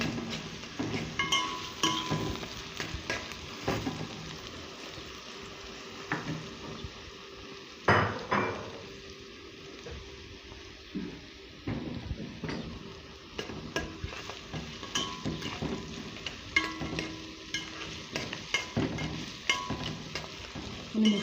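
Onion sautés in a pan, a low sizzle under repeated scraping and clinking of a spoon stirring against metal, close and steady with occasional sharper knocks.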